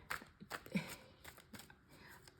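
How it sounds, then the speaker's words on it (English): Tarot cards shuffled close up in a quick irregular series of soft papery riffles and slaps, fairly faint and with low background noise between them. "I know you can hear me shuffling these cards"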